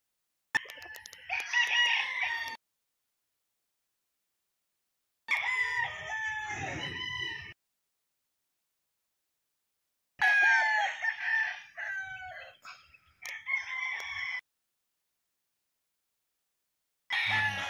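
Roosters, a bullstag among them, crow loudly and close in several separate bursts with silent gaps between, mixed with clucking fowl calls.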